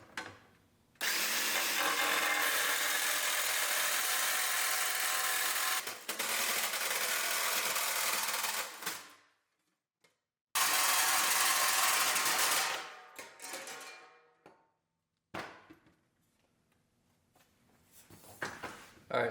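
A power tool cuts a custom fender liner for a wide-body Ford Bronco in loud, sustained bursts with short pauses between them, then trails into quieter handling noises.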